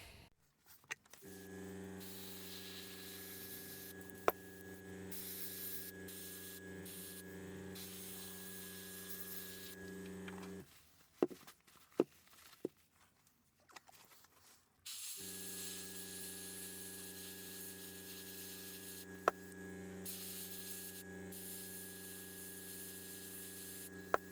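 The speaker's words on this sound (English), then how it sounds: "now that I've got all of that stuff done with the airbrush, a little black overspray" Airbrush spraying black paint onto a mask, a steady compressor hum and hiss running in two long stretches, broken by a gap of faint clicks and handling noises, quiet and close.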